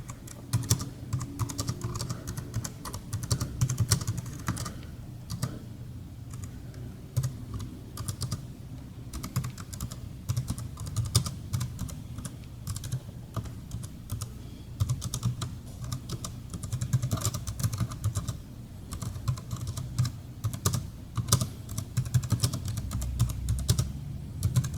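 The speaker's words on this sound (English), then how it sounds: "Okay, as you see, I have the JLab keyboard right here. Got my Apple iPad 9th generation right there. And so let's type a little bit." Continuous close clicking of typing on a JLab wireless keyboard paired with an iPad, a quiet, fairly even stream of key presses with no talk.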